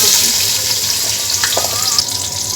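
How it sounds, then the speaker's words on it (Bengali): Chopped onion going into plenty of hot oil in a pan for pulao, a steady bright sizzle with faint stirring clicks, close and loud, no talking. "তেল দিয়ে তারপর দিয়ে দিচ্ছি পেঁয়াজ"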